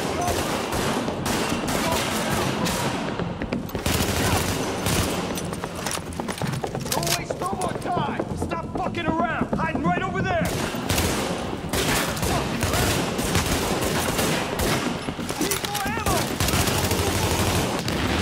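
Rapid bursts of gunfire in The Division video game, with dense volleys of loud, close shots repeating throughout amid other game sounds and voices.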